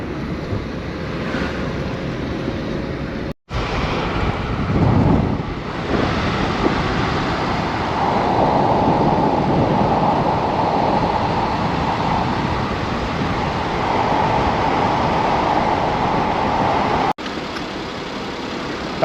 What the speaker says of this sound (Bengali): আর বাইরেটা এই মিষ্টি হাওয়া,